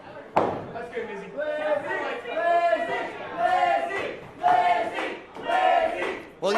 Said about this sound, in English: you can hear our audience cheering for the man from the purple